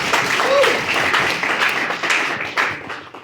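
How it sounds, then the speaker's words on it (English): Audience applause at an evening political club gathering, a dense wash of many hands clapping that holds steady and then thins out near the end, with some murmured voices mixed in. "let's just give them all a round of applause."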